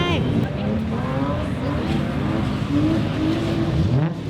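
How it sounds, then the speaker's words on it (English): A car drifts at an import car event, its engine wailing and shifting pitch as it slides through a turn, heard from nearby over a few seconds amid background crowd noise. "Drifting for the first time."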